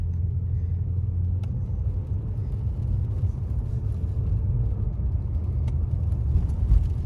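A Mercedes W140 with its automatic gearbox in winter mode pulling away gently from a traffic light, a low steady engine rumble heard from inside the car with no strong revving.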